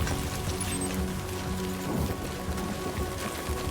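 Rain falling on a mountainside, a steady broadband hiss of drops on surfaces with faint low rumbles, continuous and fairly close, no talking.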